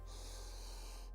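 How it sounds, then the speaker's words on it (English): A deep breath drawn in through the nose during a yoga hip stretch, a single steady inhale lasting about a second, close and fairly quiet over a low hum. "Deep breath in"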